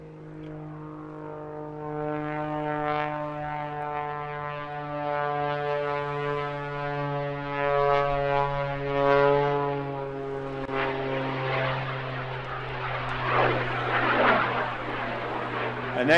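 Aircraft at a seaside airshow fitted with two small Lynx jet turbines on the sides of the fuselage, a loud sustained droning engine tone with rising turbine roar as it passes, alone without talk.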